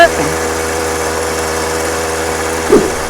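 A small brush cutter engine fitted to a homemade mini bike runs at a steady idle, a close, buzzing drone with even pulses and a brief voice near the end.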